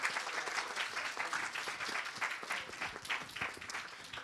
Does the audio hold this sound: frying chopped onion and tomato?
no